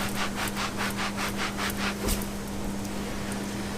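A utility towel scrubs a leather car seat in quick rhythmic back-and-forth rubs, close and fairly loud, over a constant low hum, the strokes easing off toward the end.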